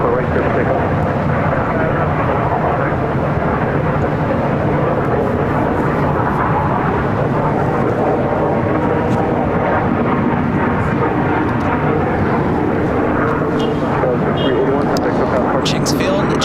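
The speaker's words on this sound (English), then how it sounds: "RNAV Tower, runway 24 right, clear for takeoff." A jet airliner takes off from runway 24 right at LAX, a broad continuous roar with rumbling low end that holds steady and loud throughout, with a voice talking over it.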